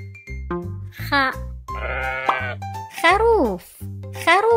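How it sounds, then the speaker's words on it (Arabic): Sheep give several short, wavering bleats, close and clear, separated by brief gaps, within a cheerful children's alphabet recording with a voice speaking between the calls. "Sheep."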